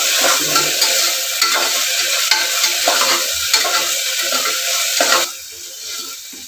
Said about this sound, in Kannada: ಅಲ್ಲಿವರೆಗೂ ಸ್ವಲ್ಪ ಎಣ್ಣೆ ಒಳಗೆ ಫ್ರೈ ಮಾಡ್ಕೋಬೇಕ್ರಿ